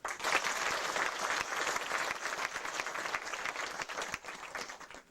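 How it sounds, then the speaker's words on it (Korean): A congregation applauds during a building dedication service at a Korean church, a continuous spread of many clapping hands heard at moderate distance, fairly soft, thinning into scattered claps before fading out. "박수 한번 합시다"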